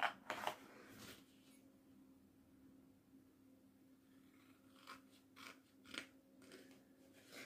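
Scissors snip through material for a homemade photo frame craft, a few quick crisp cuts at the start, then a quiet stretch with low hum, followed by several softer snips and rustles, all faint and close.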